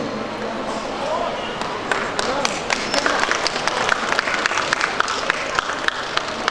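A crowd in an event hall applauds to welcome a guest onto the stage, with steady, dense clapping that swells with sharper claps as it goes on, and a voice faintly underneath.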